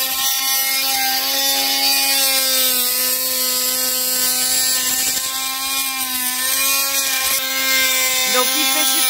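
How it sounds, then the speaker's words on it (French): Vibrating sander running steadily beneath a boat hull during pre-departure boat work, a continuous buzzing hum with sustained tonal whine, close and loud throughout. "on voit bien que la vibreuse passe en dessous."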